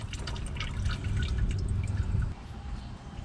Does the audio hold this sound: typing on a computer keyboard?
no